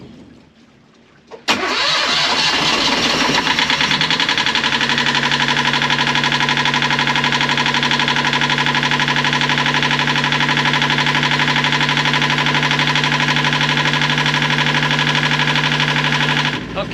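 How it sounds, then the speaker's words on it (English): A sailboat's diesel engine, just repaired with its high-pressure pump reinstalled, cranks briefly after a quiet moment and catches, then settles into a loud, steady idle that runs evenly to the end. "then we'll see if the engine starts"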